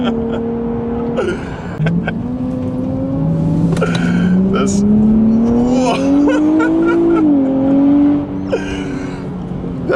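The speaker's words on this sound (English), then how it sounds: "the car sounds really, really good, and actually I'm really pleased with the engine note from this video" A 2023 Nissan Z's engine droning and rising in pitch through the cabin during a ride, a steady loud note climbing as it accelerates, with occasional voices talking over it.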